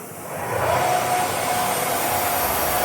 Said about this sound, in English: The machine's going to start moving around.